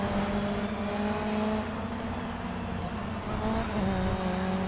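A race car in GRID Autosport accelerates hard, its engine droning steadily and climbing through gears, loud and close with no voices.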